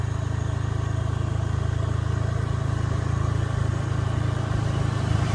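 A motorcycle rides along a hilly road near Pitigala, its engine droning in a steady, loud low hum with continuous wind and road noise and no talk.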